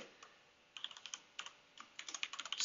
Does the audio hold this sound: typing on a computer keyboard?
yes